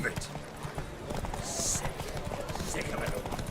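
Rapid rhythmic hoofbeats of a galloping horse during a horse race in The Witcher 3, mixed with wind-like rushing and a voice speaking over it.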